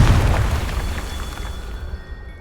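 A Confringo explosion spell going off in Hogwarts Legacy, a loud booming blast with a heavy low rumble that fades out over about two seconds.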